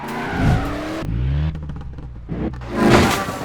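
A car speeds up along an open road, its engine note rising through a short run with a brief skid-like squeal, loud and close, with no voices.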